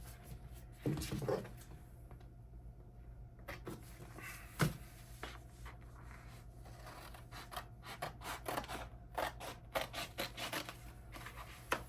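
Scissors cutting a rhinestone transfer sheet, a few crisp snips and sliding scrapes close by in a quiet room, with handling rustles between cuts.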